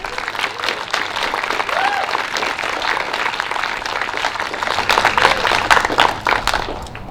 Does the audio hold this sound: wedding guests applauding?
yes